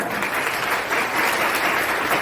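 An audience applauds at a motivational talk, steady dense clapping throughout at a fairly close, even level.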